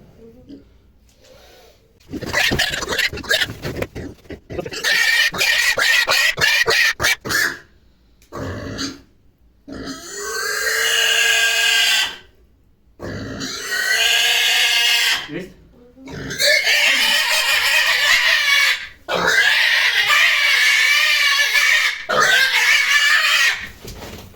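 Two-month-old piglets squeal loudly in repeated shrill bursts with short pauses between, mixed with grunts and snorts, close by and very noisy.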